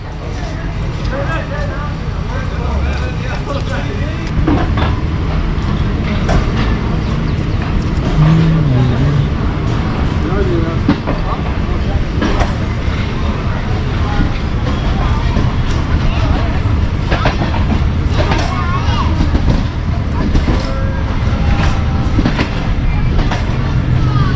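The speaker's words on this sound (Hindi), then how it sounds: "मियाँ वाली एक्सप्रेस पहुंच चुकी है पाई खेल रेलवे स्टेशन पर" The Mianwali Express arriving at Paikhel railway station during the rainy season, a continuous heavy rumble with rhythmic clickety-clack of wheels over rail joints, loud and close throughout, with someone narrating over it.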